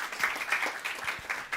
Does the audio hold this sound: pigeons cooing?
no